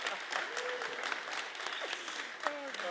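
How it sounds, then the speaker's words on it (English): Audience applause at a live conference talk on stage, a steady dense wash of clapping for the full stretch, with some tonal squeaks and faint voices mixed in. "a massive round of applause"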